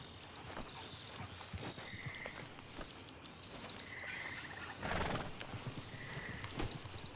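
Slow, uneven hoof clops of a horse walking in the video game Red Dead Redemption 2, fairly faint, with croaking frogs and a short whinny in the background.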